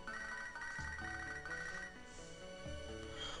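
A phone rings during an in-game call in the Pokemon SoulSilver video game, a repeating electronic ringtone over the steady game music, loud and continuous throughout.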